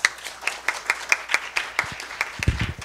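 Audience applause at a 2022 youth climate justice presentation at Gyeseong High School, a crowd clapping in steady close bursts that stay fairly loud for the full stretch, with a few louder low thumps near the end.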